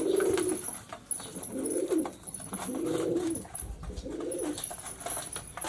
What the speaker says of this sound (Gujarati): હવે હું મારા કબૂતર ખોલું.